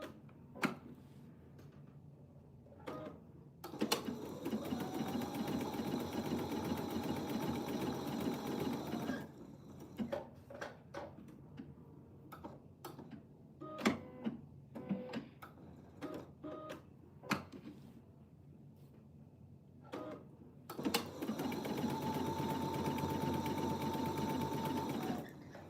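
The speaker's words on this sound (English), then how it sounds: "If you don't have a triple stitch on your machine, you can just go over it 3 times" Domestic sewing machine running a triple stitch while quilting, in two sustained whirring bursts with a steady mechanical hum, separated by a stretch of sharp clicks and taps.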